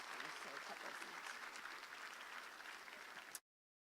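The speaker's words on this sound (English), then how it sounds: "Can we give them another round of applause" Audience at a town inauguration ceremony breaks into steady, dense applause, many hands clapping continuously at an even level before cutting off abruptly near the end.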